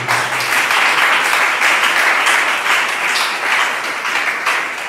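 A church congregation applauds steadily and loudly for several seconds, a dense wash of many hands clapping together with no pauses.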